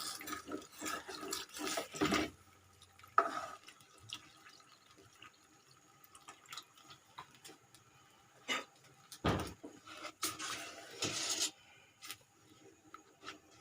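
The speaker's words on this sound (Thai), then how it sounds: "แล้วก็เติมน้ำให้เยอะหน่อยนะคะ เพราะว่าเราจะใช้ราดเส้นเนาะ" Water is poured into a cooking pot of browning pork for a Thai rad na noodle gravy, with splashy, uneven bursts over several seconds amid clatter and quieter gaps.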